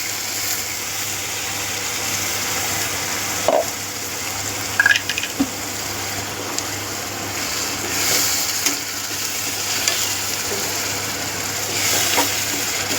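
Onions and tomato paste frying together for a prawn gravy give off a continuous sizzle, joined by a few clicks and stirring scrapes of a utensil against the pan, with no voices.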